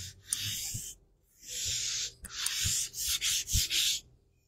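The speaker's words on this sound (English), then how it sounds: "But we're going to rub that paint, the paint wash, into our timber." Paint wash rubbed by hand into filled timber with a Pureco Silk Finish, heard as close, dry scrubbing strokes in several bursts with short pauses between them.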